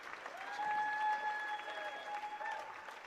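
A stadium crowd applauds players at a New Zealand versus South Africa third-place match, with steady dense clapping and a few sustained tones over it for about three seconds.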